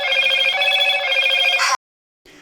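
A telephone rings loudly and steadily during a live financial broadcast, then cuts off abruptly, followed by a brief faint tail of sound.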